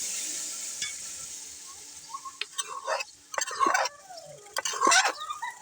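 Raw chicken goes into a hot pot for Muslim-style chicken biryani, with soft sizzling and several clattering scrapes and plops of pieces hitting the pan, close and fairly quiet, with faint voice in the background.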